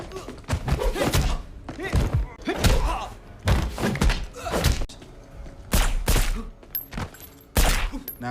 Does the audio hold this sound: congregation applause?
no